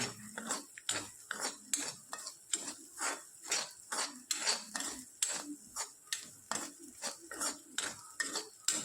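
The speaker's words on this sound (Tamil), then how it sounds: "நல்லா முறுமுறுன்னு வறக்கணுங்க" Bitter gourd podimas being stir-fried on a low flame in a pan that it does not stick to. Rhythmic spatula scrapes and taps sound in a quick, steady sequence of strokes, close and moderately quiet, with only a faint sizzle and no talking.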